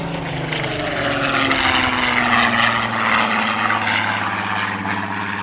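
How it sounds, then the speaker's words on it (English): Spitfire PR-19 with a Rolls-Royce Griffon engine flying past at an airshow, a loud, continuous throaty propeller growl with its pitch sliding downward as it passes, alone without voices. "The Spitfire PR-19 of the Rolls-Royce Heritage Flight giving us a particularly noticeable demonstration of the throaty growl produced by the Griffin"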